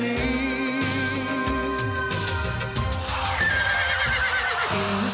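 A horse neighs over steady background music in a cartoon, the whinny rising clearly above a continuous musical bed.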